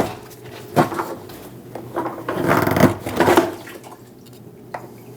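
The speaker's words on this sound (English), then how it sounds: "We're going to pull this hose that's going over to the other side out." Rubbing, scraping handling of a fuel hose being pulled free from the fuel tank of a 2011-2027 Dodge Durango 5.7L V8, with several short bumps and a longer stretch of dragging friction, close up and no talk.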